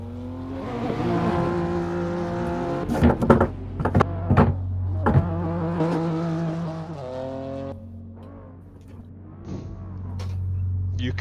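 A car's engine revs hard at a night drag racing event, with a steady harmonic drone broken by sharp bursts and surges in the middle and rising again toward the end, close and fairly loud.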